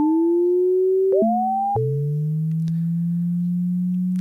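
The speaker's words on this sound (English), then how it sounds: "Now let's change to a sine wave." A Waldorf Blofeld synthesizer plays a sine wave tone modulated by an envelope: a steady pitch that bends and jumps between levels, sweeps upward, then settles into a lower sustained hum, loud and alone.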